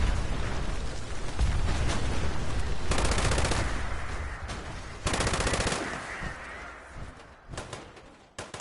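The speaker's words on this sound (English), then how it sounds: "that MG42 is good, just except the recoil" An MG42 machine gun in Fallout 76 fires in long, rapid sustained bursts with a dense rattling roar, pausing briefly between volleys, loud and close with no talk over it.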